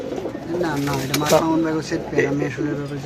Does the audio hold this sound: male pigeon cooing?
yes